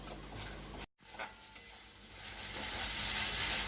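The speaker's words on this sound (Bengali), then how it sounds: "আর দু টেবিল স্পুনের মতন জল দিয়ে কষিয়ে নিতে হবে।" Spice paste being stirred and fried with a little water for prawn curry, a soft steady sizzle with scraping stirs, briefly cut out then building to a louder hiss.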